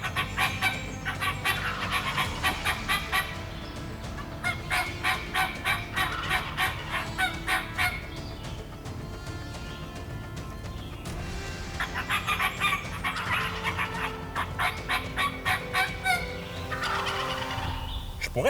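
Wild turkeys, a tom with hens and young jakes, gobble in repeated loud bursts during a New Brunswick hunt, several calls rolling one after another at moderate distance with no talk.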